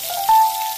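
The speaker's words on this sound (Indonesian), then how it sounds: "selanjutnya kita goreng" Tofu fries in hot oil with a constant fizzing sizzle and a brief louder hiss, close and steady, no talking.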